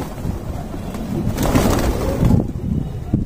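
Pigeons cooing close by in a low, steady murmur, with soft rustling and faint background noise throughout.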